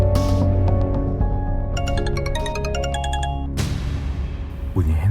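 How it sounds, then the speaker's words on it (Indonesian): Mobile phone ringing in a TV drama scene, a bright electronic melody of repeated chiming tones lasting a few seconds before cutting off abruptly, clear and fairly loud over a quiet room. "Bunyi handphone."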